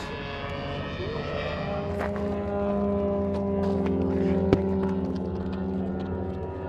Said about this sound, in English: It's an Ultimate 2 biplane. It runs on a 3S battery with 2200